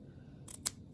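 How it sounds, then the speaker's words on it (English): Scissors snip through paper while a pen holder for planner pen loops is made, with two quick, close cutting strokes over a low background hum. "So take your scissors. Now you're going to cut on this side."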